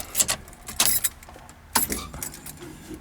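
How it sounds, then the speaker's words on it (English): A ring of keys jangles in short bursts as an ignition key is handled and turned in a Ford Crown Victoria, with faint mechanical clicks between the rattles. "Then we will get my ignition key and go through the cycle."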